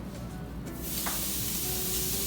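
Food hisses and sizzles in a hot, smoking skillet, the crackling swelling louder partway through and holding steady with no talking.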